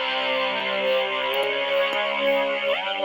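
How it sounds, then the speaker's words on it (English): Dirty Fifth electronic synthesizer bass from GarageBand, holding a buzzy, distorted sustained tone with a few subtle pitch shifts, played alone at moderate level for a few seconds. "I think given that sort of sound is happening there, I'd like to have more of an electronic bass."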